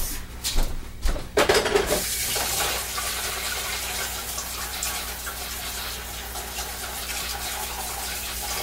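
Water running steadily from a tap to rinse while making soap, starting with a few knocks and clatters and then settling into a constant close rush.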